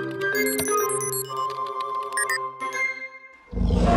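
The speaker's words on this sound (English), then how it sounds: "And that sounded like a dinosaur." Cartoon dinosaur roar sound effect in a kids' garage show, a jumble of tinkling musical tones giving way to a loud, rough low roar at the end, with no talk.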